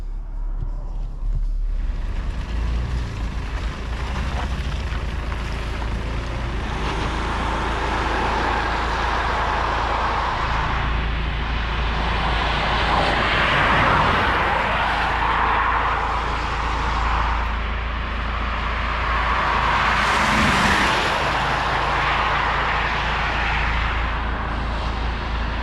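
An Alpina XD4 G02 with a quad-turbo engine accelerates hard, its steady loud roar swelling and falling in waves for a long stretch, heard from inside with a constant low rumble underneath.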